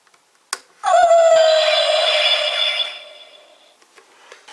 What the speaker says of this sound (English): we'll switch it on, and we'll get the standard activation sound